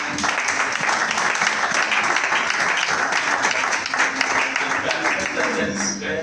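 A church congregation applauds steadily, a dense, sustained wash of clapping filling the room with voices faintly mixed in.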